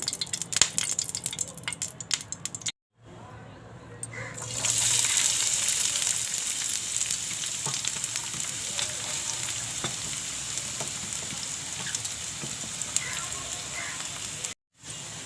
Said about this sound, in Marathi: कांदा घालून घेतला आहे